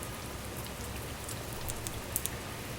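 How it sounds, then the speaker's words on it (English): Steady rain falls in the Divine Possession visual novel game, a continuous even hiss with a few brighter droplet taps near the end and no voices. "It's raining"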